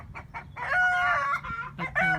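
A backyard rooster crows loudly and close by, one full drawn-out crow with short clucking notes before and after, in a home garden where chickens are kept.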